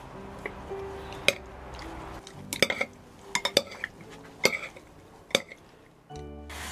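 Seasonings mixed together in a bowl for Vietnamese pancakes, with scattered clinks and taps of a utensil against the dish and soft stirring between, close and fairly quiet.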